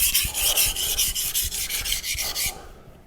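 Knife blade rubbed in rapid back-and-forth strokes across a Nano Hone 400-grit ceramic whetstone, a close, steady, gritty scraping with a regular rhythm that stops abruptly near the end.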